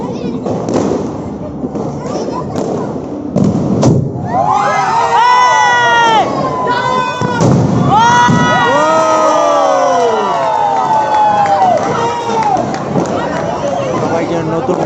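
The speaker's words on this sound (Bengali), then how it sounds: "আতশবাজির ভিডিও" A New Year's Eve crowd cheers and shouts loudly, children's voices rising in excited whoops over scattered fireworks bursts and thuds, with dense overlapping voices throughout.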